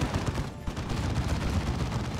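A mounted turret fires in Warhammer 40,000: Dawn of War 2, a dense, continuous burst of gunfire roaring loudly from start to finish, with a brief dip midway and no talk over it.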